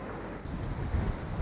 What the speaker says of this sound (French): On peut, notamment, observer le fracas de l'eau sur les structures de roches.